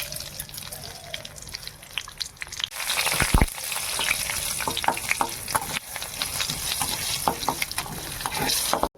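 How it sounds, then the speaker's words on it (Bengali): Dried red chilies and five-spice seeds sizzle and crackle in hot oil in a wok, a steady close frying hiss with sharp spatters and stirring scrapes. "এটা আমি তেলের মধ্যে ফোড়ন দেবো।"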